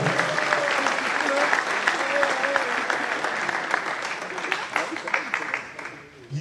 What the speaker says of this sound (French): Merci d'applaudir Mathias